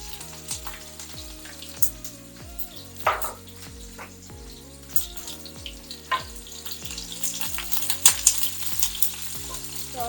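Chopped onion frying in a pan for fish makange, with a steady bed of sizzle and occasional scrapes and stirring clatters close by, while rhythmic music plays throughout.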